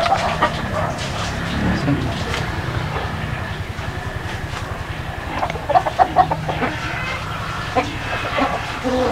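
Chickens clucking in a coop, scattered calls and clucks over steady background noise, with a dog barking briefly and someone talking in places.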